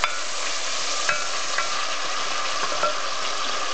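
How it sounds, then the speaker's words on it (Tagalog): Pork fries in a pan with a steady, dense sizzle, broken by a few faint clicks of stirring, close and continuous with no talking. "So, habang pina-fry natin yung pork, yan, habang niluluto natin siya,"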